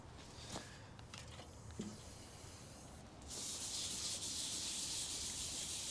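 Red oxide primer and blue paint are scrubbed off a 1968 Dodge L1000 truck, giving a steady, fairly soft abrasive rubbing hiss that turns louder and brighter partway through and then holds steady.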